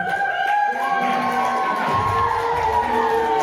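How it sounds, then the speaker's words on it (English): A children's audience at a live spooky story reading show gives a big cheer, with loud, bright shouting and whooping voices that stay steady and close throughout. "If you give us a big cheer, we're going to cheer for these lovely people over here."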